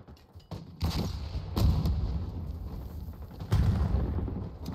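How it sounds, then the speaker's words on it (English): Frag grenade blasts in Black Ops 6 hardpoint combat, a pair of deep booming detonations with rumbling tails, about three seconds apart, over steady battle noise at moderate loudness. "Throwing frag."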